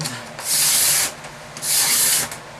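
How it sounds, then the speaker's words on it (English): A sharp hand scraper drags across a wooden instrument back, making two distinct rasping strokes, each lasting about half a second, close and fairly loud. "You take a scraper, a good sharp scraper, and you're going to scrape that smooth."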